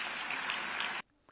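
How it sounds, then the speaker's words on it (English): Audience applause at a Bahamian celebration tea party: dense, steady clapping from a crowd that cuts off abruptly after about a second, leaving near silence with a faint stray sound. "Please, let us give an applause for Bahamian exceptionalism."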